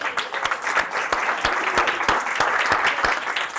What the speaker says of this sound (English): let's give a round of applause to Adam and Diana